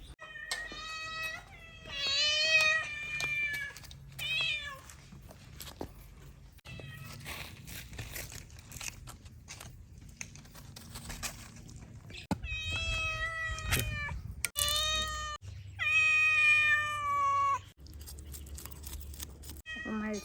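A domestic cat meows for fish at home, giving a series of loud, close, drawn-out meows in clusters separated by short quiet gaps.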